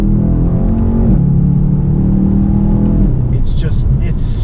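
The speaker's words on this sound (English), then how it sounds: "I'm gonna go ahead and downshift it." A 2018 Mercedes-AMG S63 Cabriolet's engine drones steadily with a 9-speed automatic, its pitch stepping as it downshifts twice and the revs rise, loud and close throughout, with someone talking over it.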